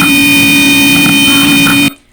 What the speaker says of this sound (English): Suddenly, the alarm sounds.